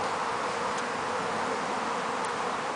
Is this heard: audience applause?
no